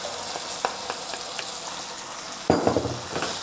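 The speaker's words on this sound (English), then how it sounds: "Combine everything together over high to medium heat." Shrimp, ginger and garlic stir-fried over high to medium heat, a steady sizzle with sharp scrapes and tosses of a utensil against the pan, a louder burst of stirring near the end, with no talking.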